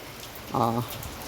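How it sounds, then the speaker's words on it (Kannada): Steady rain falls as a soft, continuous hiss throughout, with a brief tonal, voice-like sound rising over it in the middle. "ಮಳೆ ಸೌಂಡ್ ಬರ್ತಾ ಇದೆ"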